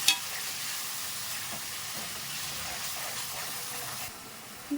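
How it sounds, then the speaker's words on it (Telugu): Ginger garlic paste and tomato fry in a pan with a little added water, giving a steady, close, loud sizzle that hisses continuously, softening slightly near the end. "అల్లం వెల్లుల్లి పేస్ట్ ఇది త్వరగా మగ్గిపోతుంది ఆయిల్ రిలీజ్ చేసేస్తుంది"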